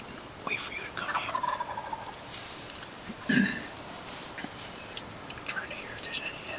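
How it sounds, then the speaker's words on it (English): A wild turkey gobbles once at a distance, a short rattling burst rising above quiet outdoor ambience with birds chirping faintly around it. "Let him gobble again."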